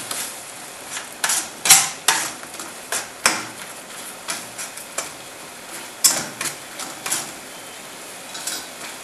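Greens stirred in a cooking pot, with a steady series of short scraping and clinking strokes of a utensil against the pot over a faint sizzle, close and moderately loud, with no talking.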